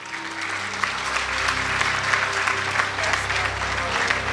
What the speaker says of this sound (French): Je vous prie de l'applaudir chaudement